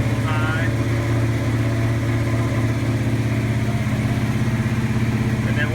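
A cold 1978 Dodge Ramcharger engine idles a little high, a steady, loud, even rumble with a fast regular pulse that holds unchanged for several seconds.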